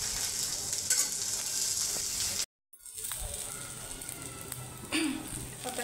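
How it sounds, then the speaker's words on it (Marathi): Prickly okra roasting in oil on a pan, a steady close sizzle and hiss with stirring scrapes, broken by a brief silent gap midway before the frying resumes. "हे बघा, तेलावरच भाजून घ्यायचं।"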